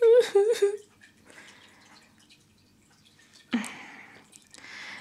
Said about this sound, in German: Das Wasser, das man im Hintergrund hört, ist der Katzenbrunnen.